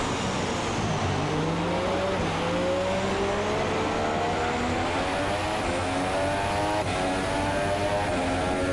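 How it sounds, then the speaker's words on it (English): A race car engine in an F1 racing video game at the Abu Dhabi Grand Prix revs high toward 12,500 rpm, a loud continuous whine climbing steadily through the gears without talk. "Really revs his engine out."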